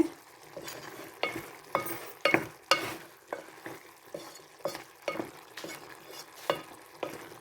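A spatula stirs potato and long bean curry frying in a pan, sharp scraping strokes repeating at a steady rhythm over a soft sizzle, close and alone.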